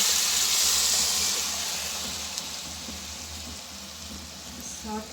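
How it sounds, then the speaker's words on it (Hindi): Chickpea greens saag tipped into oil with golden fried garlic, giving a steady close sizzle and hiss that slowly eases off, with a brief clatter near the end. "अब हम इसके अंदर साग जो है वो ऐड करते"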